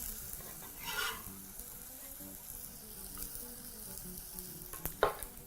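Onions hit smoking-hot oil in a pot for veggie githeri, giving a soft frying hiss with a few louder crackling bursts and light clinks, quiet and close, with no talking.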